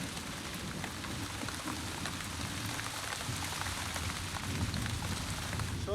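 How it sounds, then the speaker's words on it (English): Heavy pouring rain lashes down during a storm, a dense, steady roar of drops on surfaces that holds at an even loudness throughout, with no voices. "Pouring rain and blowing a hurricane ever since."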